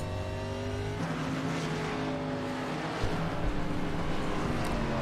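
Race car engines drone steadily in the iRacing sim at the Charlotte Roval, a continuous loud engine whine with shifting pitch, close and alone without talk.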